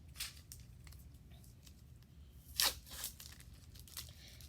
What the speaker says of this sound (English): the first thing that you're going to do is unwrap your cheese stick